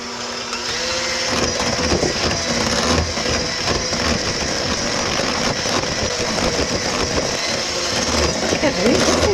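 An electric hand mixer beats chocolate brownie batter with a continuous, fairly slow whirring drone, while people talk over it throughout.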